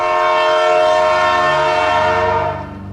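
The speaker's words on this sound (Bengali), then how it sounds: "কিছুক্ষণ পর ট্রেন এসে থামলো" A loud, sustained train horn blares close by for about three seconds, its rich tone holding steady before tapering off.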